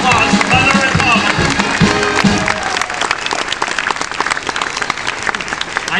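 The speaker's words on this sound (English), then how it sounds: "Let's have a big round of applause for Mother and Robin." A crowd at an outdoor dedication ceremony on Main Street bursts into loud, dense applause that fades gradually over several seconds, with voices mixed into the clapping.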